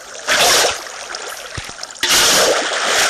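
Water placed from a bucket in Minecraft survival gushes and splashes in two loud bursts, separated by a quieter stretch with a few faint thuds.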